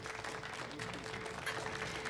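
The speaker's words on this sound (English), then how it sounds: "let's give a big round of applause to Miss ADA Winterbottom" A crowd applauds, and the steady, moderately faint clapping carries on under some speech.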